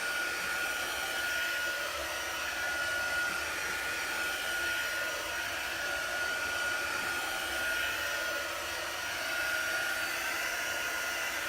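A hair dryer blows over a layer of chalk paste, a steady close whooshing hum that holds constant throughout with no talking.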